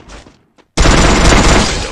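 A sudden, loud burst of rapid gunfire in Garena Free Fire, an abrupt roar of overlapping shots after a brief quiet, sustained to the end, following a faint earlier shot.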